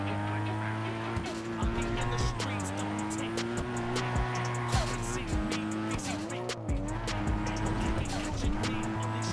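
Car engine in the video game GTA V, a continuous revving drone with repeated pitch drops at each gear change, tire squeal and skidding under it, with no speech.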